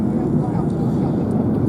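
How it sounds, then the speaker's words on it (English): Red Arrows jets banking at an airshow produce a steady, continuous low roar of engine noise, distant and unbroken throughout, with no distinct passes or bursts. "the aircraft banking to the left"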